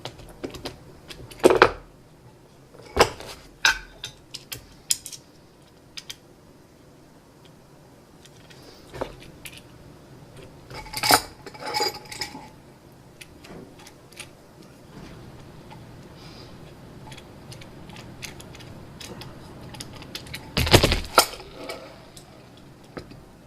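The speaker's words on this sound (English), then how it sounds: "So just take these 3 screws here." Small screws being backed out of a tufting gun housing: scattered sharp clicks and light ticking scrapes from a screwdriver, close and fairly quiet, with pauses between bursts and no talking.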